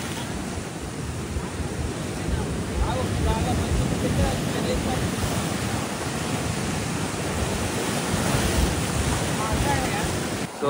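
Heavy ocean surf at Anjuna beach, Goa, with the sea muddy after monsoon rains, rumbles as a steady, broad roar of breaking waves, close and constant, mixed with wind noise on the microphone.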